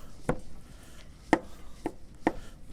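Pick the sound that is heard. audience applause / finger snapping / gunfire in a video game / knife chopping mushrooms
knife chopping mushrooms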